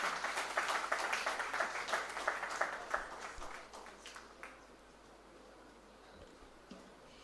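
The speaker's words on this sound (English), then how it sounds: "Everyone, please give a big round of applause." An audience at a PGDM convocation ceremony claps, a dense round of applause that is strongest at first, then thins and fades to scattered claps.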